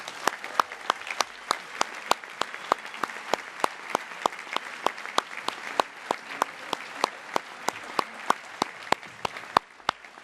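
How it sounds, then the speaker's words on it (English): A senior awards night crowd honouring class of 2018 award and scholarship recipients claps in a final round of applause, with sharp distinct claps dense throughout and a few louder close claps standing out. "I would like to congratulate all of our class of 2018 award and scholarship recipients tonight with a final round of applause"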